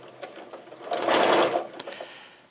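A sewing machine stitches a straight seam up to a fabric corner, a steady close whir that swells louder through the middle and then eases off, with no talking.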